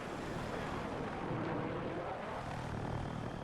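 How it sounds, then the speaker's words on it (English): An attack helicopter in Battlefield 6 drones with a steady, dense rotor and engine roar, constant and close with no pauses or voices. "I'm using the attack chopper as it seems to do a bit more damage."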